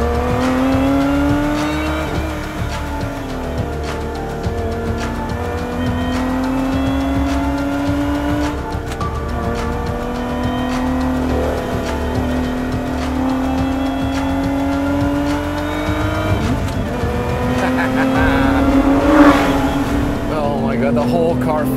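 A 2023 Lotus Emira sports car drives through a canyon, its engine a steady harmonic drone that rises and falls with the revs, while someone talks over it the whole time.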